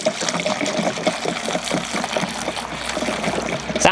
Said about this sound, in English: the proper way of pouring a bottle is on its side so it doesn't